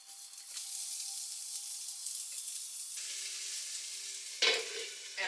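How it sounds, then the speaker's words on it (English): Cherry tomatoes and vegan chorizo fry in a pan with a steady close sizzle and crackle, shifting briefly as the food is stirred, with no voices. "I'm gonna put the tomatoes in the pan with the chorizo to let that kind of cook up"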